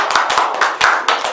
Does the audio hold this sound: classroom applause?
yes